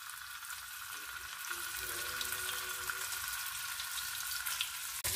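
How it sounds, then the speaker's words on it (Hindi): Paneer pieces frying in hot oil in a pan, a steady bright sizzle and crackle running throughout at low level, with no voices. "पनीर दे टुकड़े नूं फ्राई कर लैंदे आ।"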